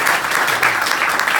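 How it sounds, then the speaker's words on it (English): Audience applause for Nassim at a corporate gathering, a dense, steady burst of clapping from a sizeable crowd, close and loud throughout. "Let's give Nassim a huge round of applause"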